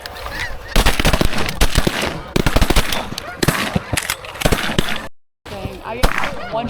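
Rapid shotgun blasts while duck hunting on a 200-bird day, loud close shots fired in quick bursts, with geese honking and people calling out between volleys.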